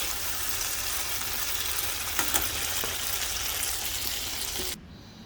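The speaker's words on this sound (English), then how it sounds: "When you stir them, just kind of like toss them so all of the sides get cooked." Potatoes frying in a pan make a dense, loud sizzle with a few soft stirring and tossing knocks. The hiss cuts off abruptly just before the end.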